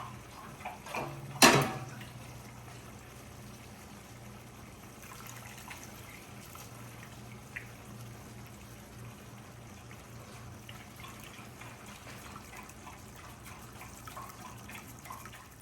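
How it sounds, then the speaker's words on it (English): Water, the same water used to heat chiles, trickles and pours faintly into a masa mixture for pork tamales, with a brief louder splash near the start followed by a steady quiet dribble. "So let me add some more water."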